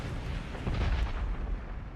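Mortar shells exploding in PUBG, a steady low booming rumble that swells slightly midway, loud and unbroken with nobody talking.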